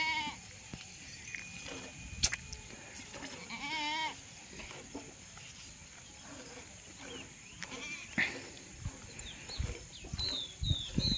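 A goat bleats in a few short, wavering calls while being milked by hand, close by over steady farmyard background noise and occasional handling sounds.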